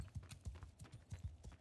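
Horse hooves clip-clopping at a steady walking rhythm in Mount and Blade II: Bannerlord, close and fairly loud, repeated hoofbeats with no talk over them.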